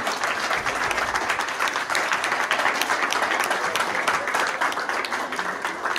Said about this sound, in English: Let's give Hannah a round of applause.